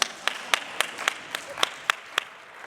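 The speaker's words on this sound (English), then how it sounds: "Clap it up for us." Audience clapping at a closing plenary session of a Jewish community summit: about nine sharp, evenly spaced claps in a steady rhythm, moderately loud, with no dense burst of applause.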